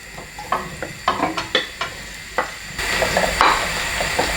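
Eggplant hits hot olive oil in a wok with a soft sizzle, broken by a run of sharp stirring clacks and scrapes before a steadier frying hiss takes over near the end.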